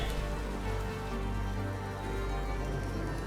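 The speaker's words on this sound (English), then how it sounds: "Everything's raining" Steady rain in a dark, gloomy Wheel of Time trailer scene, a dense continuous hiss with low rumbling underneath, constant and even throughout with no voices.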